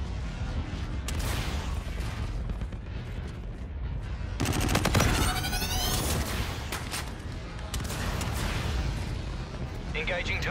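Video game gunfire from Call of Duty: Infinite Warfare in a free-for-all match, with dense bursts of automatic fire and explosive crashes running throughout, loudest around the middle, while radio-style voice callouts talk over the action.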